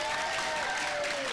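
Applause at a graduation ceremony, steady broadband clapping from a crowd sustained throughout at moderate level, with faint tonal ringing underneath and no speech.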